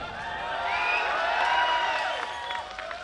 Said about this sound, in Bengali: জোরে করে হাততালি for Shomi Das Dance Company. Make some noise